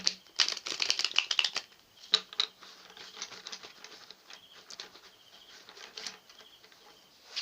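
Tarot cards being shuffled by hand, quick crisp riffling flutters in bursts, loudest at the start and then softer, scattered taps and slides.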